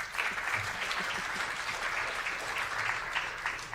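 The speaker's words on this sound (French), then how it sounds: "donc d'accueillir chaleureusement également, et avec vos applaudissements, Olivier Caron." Audience at a French round-table design event breaks into warm applause, steady and sustained clapping from a seated crowd with no speech over it.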